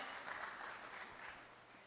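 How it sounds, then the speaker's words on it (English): Steady applause from a tech-summit audience in Haiti welcoming a panel on ecosystem development, a continuous even patter of many hands that stays fairly soft and distant throughout. "can we also have a round of applause to welcome our panel about future of ecosystem development?"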